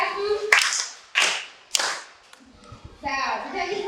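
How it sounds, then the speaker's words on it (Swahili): A class of schoolchildren gives three loud, evenly spaced claps in unison for a guest. Voices pick up right after the third clap. "Mgeni wetu makofi matatu."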